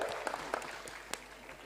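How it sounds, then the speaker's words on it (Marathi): Applause from an audience at a political speech event in Pimpri-Chinchwad, a steady mass of clapping heard for a short stretch, moderately faint and without talk over it. "संघर्षातून तयार झालेला नेता जोरदार टाळ्या"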